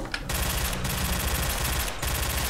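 Automatic gunfire from the wrong weapon in S.T.A.L.K.E.R.: Clear Sky, a sustained loud burst of rapid shots running almost the full length, with two brief gaps where the firing pauses.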